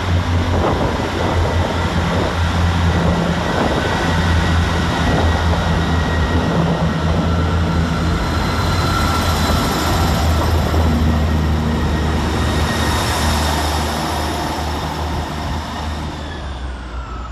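Class 158 diesel unit 158755 pulling out of Bradford Interchange station toward Halifax, a loud, sustained engine roar and rail rumble close by that builds and holds before easing slightly at the end.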